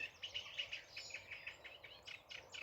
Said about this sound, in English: So we've got reed warbler, garden warbler off to the right